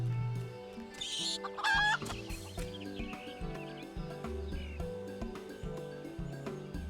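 Chickens cluck steadily in a Final Fantasy XIV game scene, with several birds calling close by in a layered rhythmic pattern and a brief louder squawk near the two-second mark.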